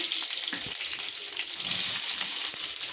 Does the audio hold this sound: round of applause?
no